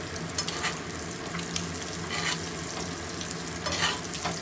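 A metal spoon scrapes and stirs in a HexClad pan over a continuous close sizzle of frying food, with soft rhythmic strokes throughout.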